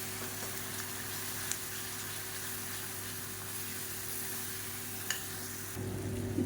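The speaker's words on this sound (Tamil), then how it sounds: "இப்போ இது எல்லாமே சேர்ந்து நல்லா அப்படியே பொரிஞ்சு வரணும்." Whole garlic cloves and spices fry in hot oil, giving a steady, soft, even sizzle with a couple of faint clinks, heard alone without talk.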